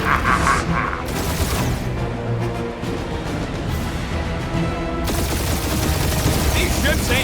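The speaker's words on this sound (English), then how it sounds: "We're taking fire!" Battle gunfire from the Guardians of the Galaxy video game, a dense, continuous barrage of shots and blasts that stays loud throughout, with voices talking over it at times.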